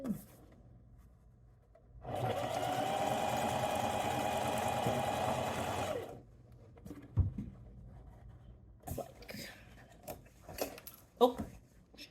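A sewing machine joins thrifted linen panels for a sundress in one steady, even run of about four seconds, close and fairly loud, followed by quieter handling noises and fabric rustling.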